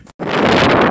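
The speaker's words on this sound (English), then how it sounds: "it's pretty windy up here" Strong wind gusts roar across an exposed mountain summit in Death Valley, buffeting the microphone with a loud, steady broadband rush after a brief lull at the start.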